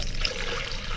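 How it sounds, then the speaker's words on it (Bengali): Water pours into a mug in a continuous close, steady splashing rush for about a second with no voices. "মগে ঢেলে নিলাম"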